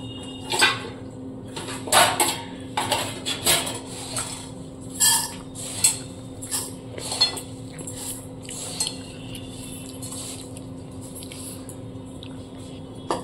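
Dishes and a spoon clink and scrape near at hand while chanachur is served into a bowl, a scattered series of sharp clatters and taps over a quiet room hum.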